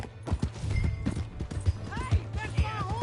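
Horse hooves gallop in Red Dead Redemption 2, a quick rhythmic clip-clop of close, loud hoofbeats, with a brief whinny near the end.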